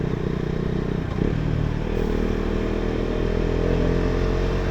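A KTM Duke 250 motorcycle fitted with an aftermarket exhaust rides past, its loud, steady engine drone and raspy exhaust note filling the whole stretch with a brief shift in pitch near the start.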